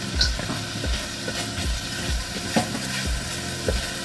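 Ginger frying in oil in a pan for ramen, a close, continuous crackling sizzle with a repeating low rhythmic thumping beneath it and a few brief sharper accents.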